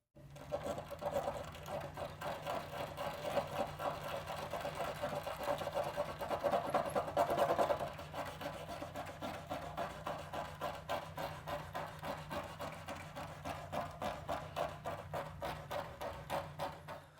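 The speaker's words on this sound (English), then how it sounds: "We are going to scratch up our film and see if we can heal it." Paint protection film on the rear quarter panel of a 2019 Golf R being scratched up, a steady close rhythmic rasping and buzzing that runs throughout, briefly louder partway through.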